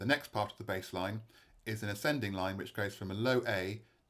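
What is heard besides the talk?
None of the usual background noises is heard.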